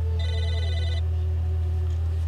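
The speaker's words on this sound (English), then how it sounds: "Oh, hey, it's a phone." A telephone rings in the video game Psychonauts: a bright electronic ring that buzzes loudly for about a second and then fades, heard alone over a steady low hum.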